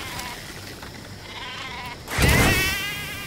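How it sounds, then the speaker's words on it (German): A sheep in Metal Gear Solid V, about to be lifted skyward by a balloon, lets out one loud, wavering bleat near the end, preceded by quiet game ambience. "Wie viel Spaß es macht, blöde Schafe mit dem Fesselballon in den Himmel zu fetzen."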